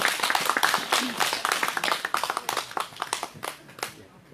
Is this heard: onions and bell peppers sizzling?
no